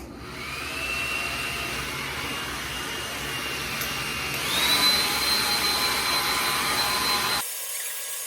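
A blow dryer running steadily on hair during slick back ponytail styling, a loud continuous whine that rises in pitch midway when switched to a higher setting, then cuts off abruptly near the end.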